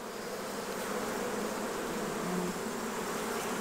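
Honeybees buzzing around an open hive being fed and drawing comb in October, a dense, continuous hum of many bees close by, steady and unbroken.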